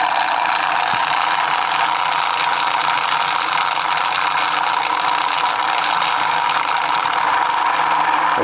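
A magnet rotor with four north-pole magnets spun by six-wire coils, running at raised power: a steady, loud whirring hum with a faint mechanical rattle, constant throughout with no one talking.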